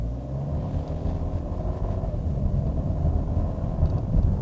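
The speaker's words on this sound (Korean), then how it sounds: "가속 페달을 조금 세게 밟아 볼게요." Steady low engine rumble and road drone inside a Kia Sportage with a 1.6 gasoline turbo and 7-speed DCT pulling away hard from a stop, heard from the cabin with no talking.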